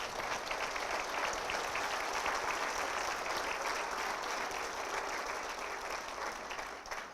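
Dense applause from a large civic audience at a city address, a continuous even roar of many hands clapping, fairly distant and sustained for the whole stretch with no voices over it.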